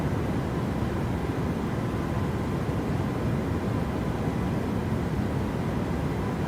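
The steady, dense engine roar of a PMDG 737-800 airliner in a flight simulator game, a continuous broadband drone at even loudness with no breaks or talking.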